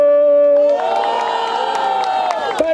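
A live crowd at a Brazilian freestyle rap battle roars and cheers loudly, a dense sustained mass of shouting voices with whoops, casting a noise vote for the MC Guizap during a Red Bull qualifier event.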